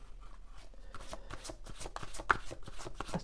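Tarot cards shuffled by hand during a monthly horoscope reading: a continuous run of soft card slides and quick papery flicks, close and moderately loud, with no voice over it.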